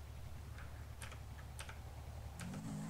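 A Razer BlackWidow mechanical keyboard clicks with a few sparse, separate keystrokes, faint and close, over a steady low hum with no voices.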